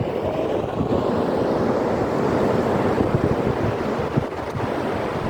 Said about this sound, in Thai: นี่คือบรรยากาศนะครับริมทะเล